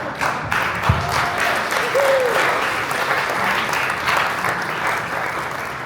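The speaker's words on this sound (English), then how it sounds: "Ladies and gentlemen, another big round of applause for Jimmy and Steve." Guests at a wedding reception applaud in a steady, full round of clapping that lasts several seconds, with faint voices mixed in.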